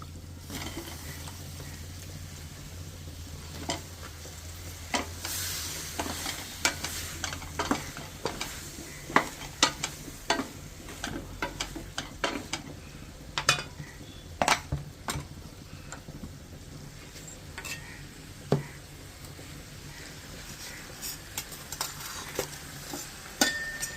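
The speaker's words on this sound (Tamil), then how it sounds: "முருங்கைக்காய் 2 முருங்கைக்காய் போட்டுக்கலாம்." Drumsticks stirred through a simmering tamarind garlic curry in a pan: a soft continuous sizzle with scattered spoon scrapes and taps against the pan, close by.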